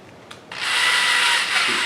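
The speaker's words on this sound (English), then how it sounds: "The Phillips ones tend to strip when they get under a lot of pressure as you're drilling in" A power drill spins up and drives a Phillips screw into a wooden workbench board, a brief click followed by a steady, close whirring that holds for over a second.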